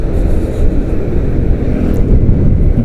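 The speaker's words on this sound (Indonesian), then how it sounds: "anginnya ini kenceng banget" Strong wind gusting steadily on an open hillside near a village waste dump at Dieng, with a dense, loud low rumble of wind buffeting the microphone and no talk.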